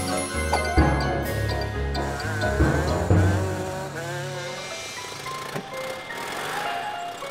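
A cartoon ice cream race car speeds off with a busy engine rumble and tinkling jingle-like music, mixed with cartoon sound effects and a brief voice.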